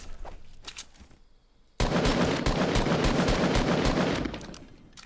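Fortnite gunfire, scattered shots followed after a brief pause by a loud, dense burst of rapid automatic fire lasting over two seconds before tapering off.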